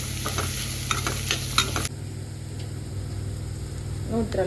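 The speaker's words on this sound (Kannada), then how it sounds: "ಆಯಿಲಲ್ಲಿ ಈರುಳ್ಳಿ ಗೋಲ್ಡನ್ ಬ್ರೌನ್ ಆಗೋ ತನಕ ಹುಡ್ಕೋಬೇಕು" Onions frying in oil until golden brown for egg burji: a steady hiss with spoon scrapes that is loud and busy at first, then drops to a softer, quieter sizzle, with a brief spoken word.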